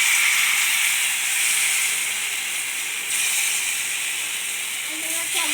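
Ragi dosa batter hits a hot, oiled griddle and hisses with a continuous, moderately soft sizzle that holds steady throughout.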